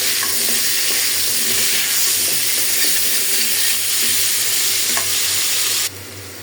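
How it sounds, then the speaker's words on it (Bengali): A small pan of curry on the stove sizzles and bubbles loudly and steadily up close, with occasional scraping stirs, dropping to a quieter hiss near the end; no one speaks. "অল্প করে একটু তরকারি রান্না বসেছি"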